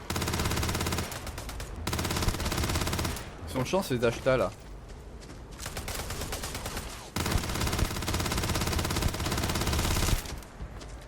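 Rapid automatic gunfire rattles in the space game Starfield, long dense bursts broken by short pauses, loud and close, with someone talking briefly between volleys.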